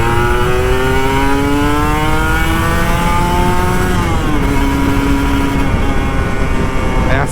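A Kawasaki Ninja RR motorcycle engine revs steadily up and down in pitch, loud and close, with constant road and wind rumble underneath, riding through Jakarta.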